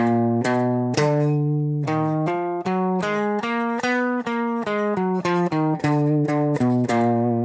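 An electric guitar plays a flowing melody of clean, sustained notes in an exotic harmonic minor Phrygian scale, moving steadily note to note.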